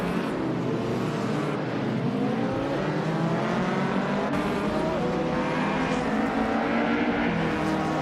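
A 1986 Citroën BX 4TC race car engine racing, a steady loud engine drone with sustained revving and slight pitch shifts, close and continuous throughout.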